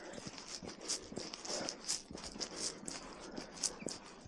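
Horses walking close by on an autumn hiking trail, a quiet irregular clip-clop of hooves with soft shuffling steps, fairly faint and unhurried.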